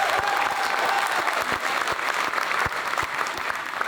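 Audience applause at a stand-up comedy show in French, a dense, loud wash of clapping from a full crowd sustained throughout, with a faint tonal whistle or feedback briefly audible early on.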